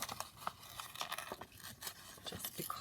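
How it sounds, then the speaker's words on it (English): Paper torn slowly by hand into a small bird shape, giving close, quiet, irregular ripping and crinkling in short bursts with no talking. "I'm just wondering whether I can fussy tear this rather than cut it"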